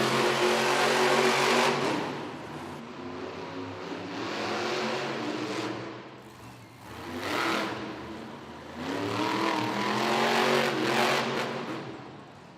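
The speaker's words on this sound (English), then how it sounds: "Classroom Crusher inching his way to the starting line as we get set to go racing." Monster Jam monster truck engines rev in a stadium arena at a racing event in Oakland, loud repeated surges of throttle rising and falling, with several swelling bursts separated by brief lulls.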